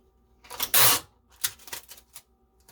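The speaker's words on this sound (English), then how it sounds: "I tape up my little ends here." Packing tape pulled and pressed onto a shipping package: one loud ripping stretch, then several short crackles and taps close by, with no talk.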